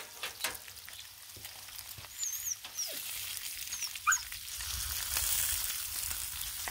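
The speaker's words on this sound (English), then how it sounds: "bacon continues to cook after you pull it off" Bacon sizzles on a Blackstone griddle outdoors, a steady crackling hiss that swells toward the end, with scattered scraping, a few dog whines or yips, and brief bird-like chirps around it.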